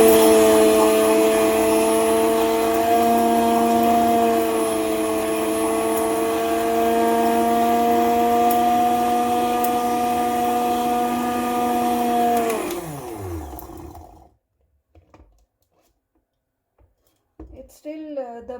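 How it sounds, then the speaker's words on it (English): An electric grinder whirs loudly as it grinds compound asafoetida into powder, a steady high motor whine running about twelve seconds before winding down and stopping, followed by faint handling sounds. "So I'm going to grind this now."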